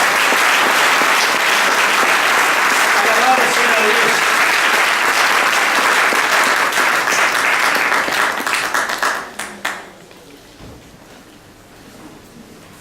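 A church congregation at a Sunday service claps loudly and steadily for Jesus Christ, then the applause thins and fades out near the end as someone speaks briefly.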